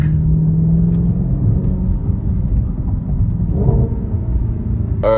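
A salvage Audi RS5 engine rumbles steadily through quick downshifts, a loud, close exhaust drone that swells briefly before a sharp blip near the end.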